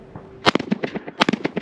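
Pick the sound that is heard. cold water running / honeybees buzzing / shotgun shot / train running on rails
shotgun shot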